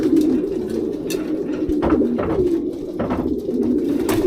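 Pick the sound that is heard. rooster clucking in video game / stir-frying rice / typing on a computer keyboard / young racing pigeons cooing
young racing pigeons cooing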